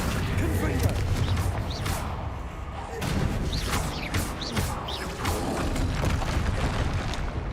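Confringo blasting spells explode in Hogwarts Legacy, a dense stream of booms and whooshing swishes, with crashing debris layered over a continuous loud game soundscape.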